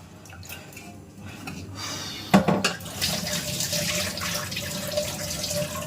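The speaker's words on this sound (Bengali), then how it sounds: "চালটা এবার ধুয়ে নিই" Tap water runs steadily into a sink while rice is rinsed, with a brief clattering splash partway through and a continuous close, moderately loud rush afterward; no one speaks.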